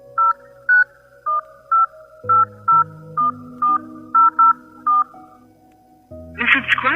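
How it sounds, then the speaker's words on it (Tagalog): Mobile phone keypad tones as a number is dialed: about ten short, evenly spaced beeps, loud and close, followed by a brief low recorded tone sequence before a burst of noise at the end. "Teka nga, tatawagan ko nga ulit."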